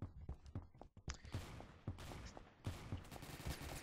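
M4A1 rifle fire in the Roblox game Phantom Forces, a fairly quiet stream of rapid sharp shots in short bursts and scattered single cracks over several seconds.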